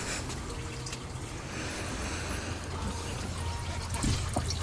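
Engine oil drains from a 2011 Ford F150 with a 3.7L V6 during an oil change, a faint, continuous trickle of liquid pouring into a catch pan with no talking.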